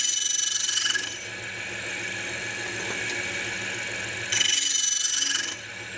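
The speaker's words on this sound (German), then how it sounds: "Hier werden die Silberrohre weiterverarbeitet. Konkret, sie werden klein gesägt" A saw cutting silver tubes into short lengths for fountain pen barrels and caps in a workshop, two loud bright rasping cuts at start and end with a quieter steady hum between, no talk.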